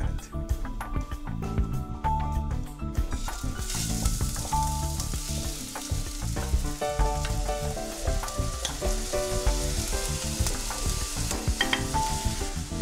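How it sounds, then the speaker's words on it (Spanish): Rice sizzles and crackles steadily in hot oil while frying for Mexican white rice, a dense continuous frying hiss with occasional stirring clatter throughout. "El proceso de freír el arroz es una cosa muy mexicana"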